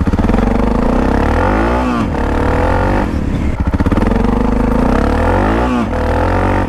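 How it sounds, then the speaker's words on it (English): Suzuki DR650 dual-sport motorcycle engine running loud and steady close by, with a few revs rising and falling and a brief throttle blip midway, riding through muddy terrain. "About to ride the 650 for the first time."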